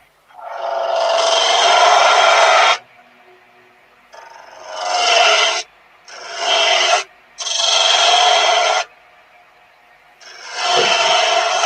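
A knife blade rasps against a sharpening stone with its edge held right on the point, making long, loud scraping strokes of about two seconds each with short pauses between them, heard alone and close up.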